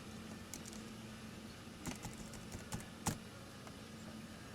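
Login details are typed on a computer keyboard during setup of an old fax machine used as a printer over a dial-up modem, giving a few faint, scattered key clicks over a quiet room hum.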